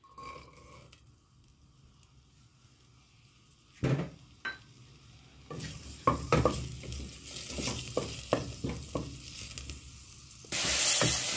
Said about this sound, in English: We need our onions fried, brown in color.